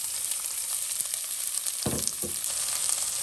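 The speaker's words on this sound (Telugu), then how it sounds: "పోపు కొద్దిగా వేడయ్యాక మనం కట్ చేసి పెట్టుకున్న ఆనియన్స్ని ఇందులో వేసేసుకోవాలి" Chopped onions drop into hot tempering oil in a clay pot for a ridge gourd and milk curry, giving a loud, steady close sizzle with a brief stirring scrape midway.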